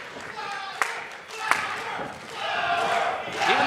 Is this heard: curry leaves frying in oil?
no